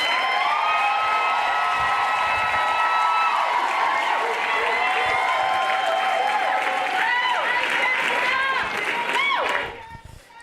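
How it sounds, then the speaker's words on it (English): A graduation ceremony crowd at Southern College applauds and cheers loudly and steadily, with whoops and shouts layered over dense clapping, before the noise drops off sharply near the end. "Graduates, give yourselves another round of applause."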